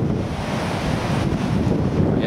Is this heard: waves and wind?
yes